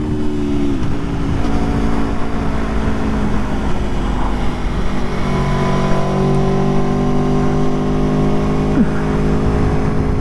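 A 2018 Aprilia Tuono Factory motorcycle ridden in track mode on a canyon road, its engine droning loud and steady with shifting pitch as it accelerates and changes gears, mixed with wind rush and no talking.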